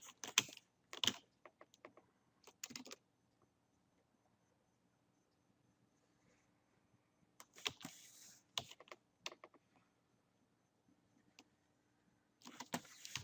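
Computer keyboard keys pressed while working in Photoshop: brief bursts of close, crisp clicking typing separated by quiet pauses, with no talking.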